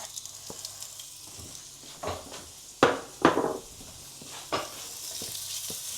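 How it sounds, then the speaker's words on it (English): Chunks of beef sear in a hot pan for a one-pot beef bourguignon, a steady hiss of sizzling broken by several sharp bursts of crackle and spatter as pieces go in and are moved about. "we're just going to add our beef and sear it on all sides so we can lock in some moisture"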